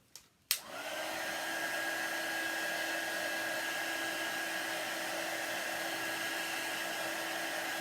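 A hair dryer blows on chalk paint on a sign, switching on after a brief click and then running in a steady, loud, even whoosh with a constant whine for the rest of the stretch.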